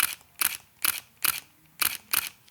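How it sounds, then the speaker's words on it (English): A Leica SL2-S mirrorless camera fires its shutter six times in a steady rhythm, each a crisp, close mechanical click-clack, with quiet gaps between them. "What does the Leica SL2S shutter sound like?"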